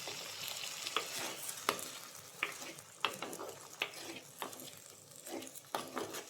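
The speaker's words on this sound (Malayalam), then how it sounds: "നന്നായിട്ട് ഒന്ന് ഇളക്കുക." Ash gourd pieces cooking in a pan, stirred with a spoon: soft sizzling under sharp scraping clicks every half second or so, quiet and close, with no speech.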